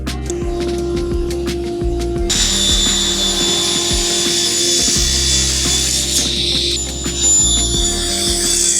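A table saw milling jarrah runs with a dust collector, a loud steady machine drone with a high whine that begins partway through and rattling clicks from wood and tools underneath.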